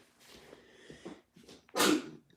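A single sharp, loud sneeze near the end, after some soft rustling and breathing noises.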